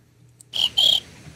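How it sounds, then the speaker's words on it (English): Cricket chirping sound effect, two short bright trills in quick succession after a brief quiet start, clear and close with no talk. "Hey, Amber, break out the crickets."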